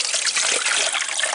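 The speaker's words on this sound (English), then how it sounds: "I've got a 2-quart I guess measuring cup, and then you just pour it" Water poured from a 2-quart measuring cup into a Gevi Gen 2 Nugget Sonic ice maker, a steady close splashing trickle that runs without a break.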